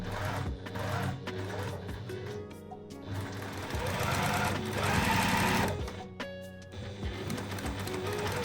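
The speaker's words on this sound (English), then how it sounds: "Sew the side seams with a 5mm seam allowance." A sewing machine stitches the side seams of a bias-cut skirt, its rapid mechanical chatter running close and loud in bursts, with brief pauses and changes in speed.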